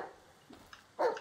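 A dog barks once in the Blair Witch video game, a short, fairly close yelp after a near-silent stretch with faint ambient noise.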